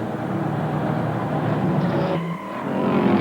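Race cars roar past in a 1990 Players LTD GM Motorsport final, a loud sustained engine drone with rising and falling gear tones and a brief dip as a car shifts, heard from trackside.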